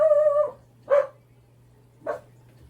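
A spaniel gives three short barks: a longer first bark, then two sharp single barks spaced about a second apart, close and clear over a low steady hum.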